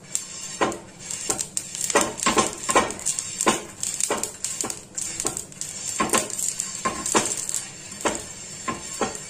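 A spoon repeatedly clinks and scrapes against a bowl in quick, uneven strokes while mixing uttapam batter with a drop of oil, fairly close and without talk.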